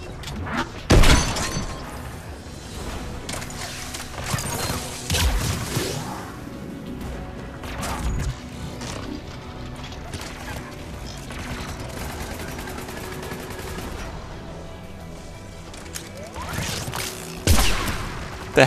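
A heavy gun in the Mass Effect 3 video game fires in loud bursts and single booming shots, mixed with crashing, shattering impacts and a dense background of battle noise.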